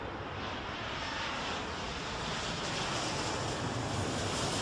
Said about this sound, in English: Blue Star 430, cleared for takeoff, runway 27 left.